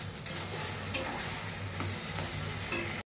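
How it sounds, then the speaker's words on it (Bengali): Soybean paste and boiled potato stirred as they fry in oil, a close sizzling hiss broken by a few utensil scrapes and knocks over about three seconds, with no talk. "দিয়ে এবার এটাকে নাড়তে থাকবো।"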